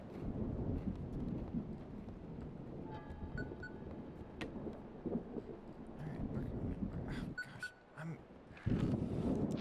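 A rumbling thunderstorm with rain and wind in the horror video game Static Dread, dense low rumbles rising and falling with some sharper crackles, no clear talking.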